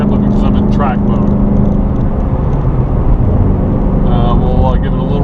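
A 2020 Shelby GT500 engine drones loud and steady from inside the car while accelerating in track mode in fourth gear, a dense low roar throughout, with someone speaking over it.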